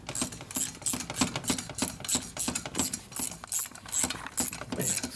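Rapid rhythmic clicking of a ratchet wrench working a tight cylinder head bolt on a Harley shovelhead engine, close and repetitive, steady strokes with brief pauses between pulls.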